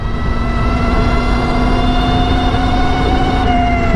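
An Energica Ego+ RS electric motorcycle gives a loud, steady, high-pitched motor whine with layered tonal harmonics. The pitch drifts slightly, and a constant low road rumble runs underneath, with no voices.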